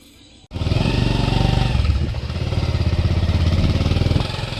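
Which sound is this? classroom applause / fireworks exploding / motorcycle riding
motorcycle riding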